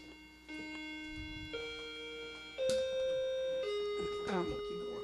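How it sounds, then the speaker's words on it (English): A doorbell chimes through a short series of sustained tones, stepping between pitches, with soft background chatter underneath. "The doorbell just rang, so it just put us all into a frenzy."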